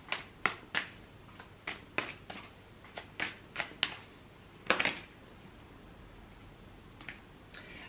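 Crisp tarot card shuffling in short bursts, a series of sharp riffles and snaps spaced irregularly, close by in a quiet room with no talking.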